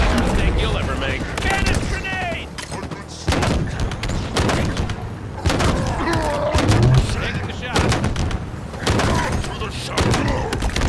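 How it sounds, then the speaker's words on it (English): Gunfire crackles in Halo Infinite campaign combat, with repeated sharp bursts and booms spread across the clip, mixed with voices talking and shouting over the battle. "We're under fire!"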